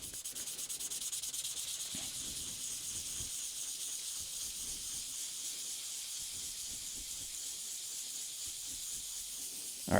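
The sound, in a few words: sanding a 3D printed stainless steel PLA part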